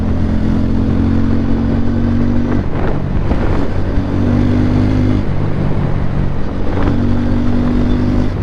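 A 2026 Bajaj Pulsar N250 motorcycle rides through city traffic with a loud, close engine drone that rises and falls in three rev-and-shift cycles, buffeted by wind with no speech.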